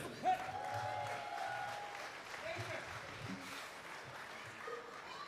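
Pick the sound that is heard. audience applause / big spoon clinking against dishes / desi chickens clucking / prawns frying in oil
audience applause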